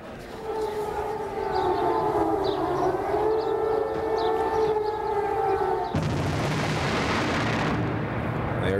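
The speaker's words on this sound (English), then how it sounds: "They're the wail of sirens, the thunder of a new desert war." Air raid sirens wail in Baghdad during the 2003 strikes, a long rising and falling tone heard from a distance, cut off near the end by a burst of broadband noise.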